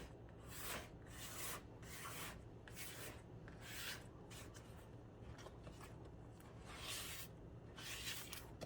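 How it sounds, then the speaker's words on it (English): A spatula rhythmically scrapes down the sides of a mixing bowl of German chocolate cake batter, making close, continuous rubbing strokes with no talking. "Scrape down the sides."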